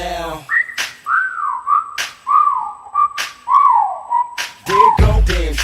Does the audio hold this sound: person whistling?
yes